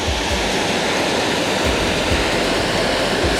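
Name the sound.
Carter Falls waterfall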